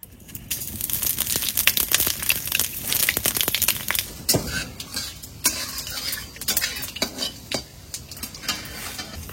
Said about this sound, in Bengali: তেল গরম হয়ে গেছে, দিয়ে দেবো কটা পাঁচফোড়ন।